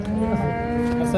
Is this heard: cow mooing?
yes